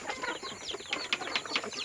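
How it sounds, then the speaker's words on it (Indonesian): Free-range native village chickens on a small traditional farm cluck and chatter in a quick run of short calls, fairly close and moderately loud, with no talking. "saya akan mencoba buat video ayam kampung saya, peternakan ayam saya"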